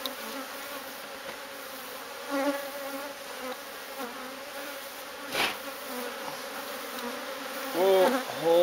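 Bees buzz around a hive being removed from a drum, a continuous moderate drone with individual insects flying close past the ear now and then.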